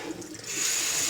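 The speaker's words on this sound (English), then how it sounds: "I'll give these a good rinse." Water from a tap runs steadily into a sink to rinse berries, building from a soft trickle to a fuller, constant splashing stream.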